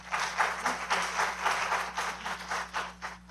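A room full of people applauds at a county commission meeting, a dense, steady wash of many hands clapping that holds loud and continuous throughout.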